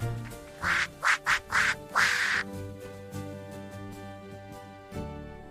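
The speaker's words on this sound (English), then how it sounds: "Mother quacked" Several quick duck quacks in a short burst, loud and close, followed by a steady background drone with a faint final quack near the end.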